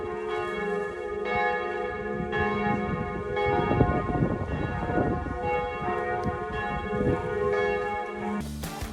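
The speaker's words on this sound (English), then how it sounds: "It is just before noon, and the church bells put on a show." Church bells ring at noon in Soest, Germany, in overlapping peals, a rich, resonant clangor swelling and lingering, heard from a moderate distance with no voices.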